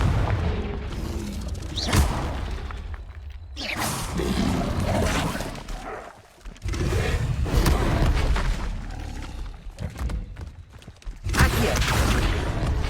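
Confringo spell blasts fire off in Hogwarts Legacy on PS5, producing repeated booming explosions of varying loudness. Crackling and mechanical game effects fill the gaps between bursts.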